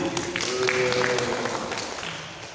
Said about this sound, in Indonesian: Tepuk tangan dong untuk Pak Edi.